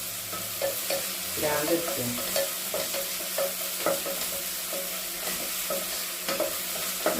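Onions fry in a pan for a mushroom curry, with a constant crackling sizzle and regular scraping strokes of a spoon stirring close by; a voice briefly says a word.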